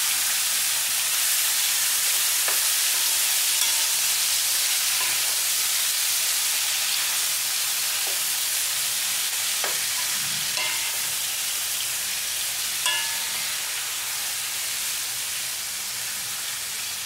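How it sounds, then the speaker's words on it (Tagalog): Fresh chicken half-frying in cooking oil, a steady loud sizzle and hiss that runs throughout with faint clinks and stirring taps. "ang gagawin natin guys ay half fried muna natin ang ating fresh chicken"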